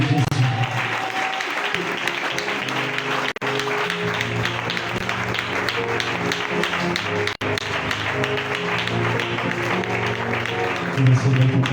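A church congregation stands and applauds, loud, sustained clapping filling the room with music or voices mixed in, running continuously apart from two brief dropouts.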